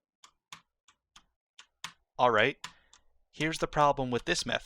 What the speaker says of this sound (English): If you hear me mashing the key in the background